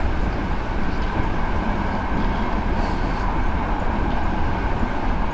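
A locomotive running in reverse in Train Simulator 2015 gives a loud, steady rumbling roar with constant rolling noise, unbroken and close, with no speech.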